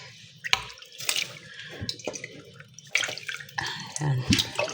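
Water gushes from a tap into a pot while rice is being prepared, uneven splashing and pouring close by with bursts of louder flow.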